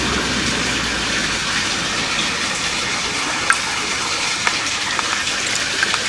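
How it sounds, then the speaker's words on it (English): Water overflows from an aquaponics grow bed into the drain and back down into the sump tank, making a constant hissing trickle and splash with a few small sharp drips popping out near the end. "the water level has just started to flow over. You can see that coming out of the drain back into the sump tank"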